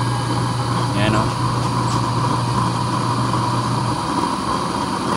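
A waste oil stove nozzle burner roars in a steady, close, constant rush during preheat, with a low mechanical hum beneath that drops out partway through.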